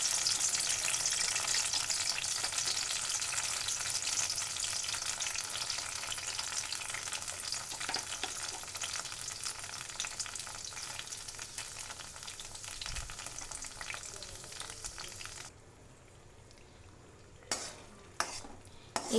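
Pumpkin paste being stirred into hot ghee, a steady close frying sizzle with scraping strokes that runs continuously, then drops away near the end to a few sharp utensil knocks.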